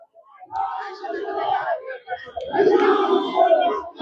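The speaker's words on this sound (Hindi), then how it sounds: "नारे लग रहे हैं, भीड़ लगी है" A protest crowd at Park Circus chants slogans, a loud mass of shouting voices that rises and falls in waves over several seconds, close by and continuous.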